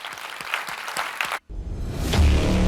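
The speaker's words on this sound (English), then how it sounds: "Everyone, give a round of applause for our panelists here." Audience applause for the panelists at a Bitcoin conference in Miami, a steady wash of clapping that cuts out briefly, then returns, swelling and growing denser toward the end.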